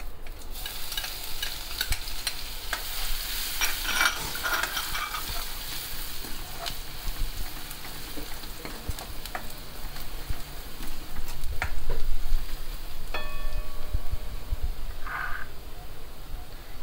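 Garlic sizzles and crackles in hot oil alongside chilies for a dal tadka, a continuous frying hiss broken by occasional scraping stirs in the pan.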